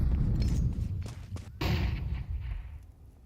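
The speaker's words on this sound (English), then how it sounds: "Nobody panics off that flashbang into Bal." A flashbang grenade goes off in a Counter-Strike match: a muffled, heavy thud and rumble of gunfire, then a sharp burst partway through that fades into a quieter tail.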